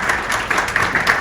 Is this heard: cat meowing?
no